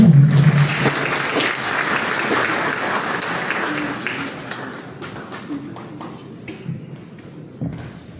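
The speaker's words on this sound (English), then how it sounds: "Shall we please give a round of applause?" Applause from an audience at an official government strategic plan launch, loud at first and gradually fading, dense clapping with a few knocks and taps near the end.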